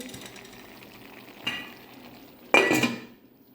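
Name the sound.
stirring avial vegetables with green chilli and curry leaves in pot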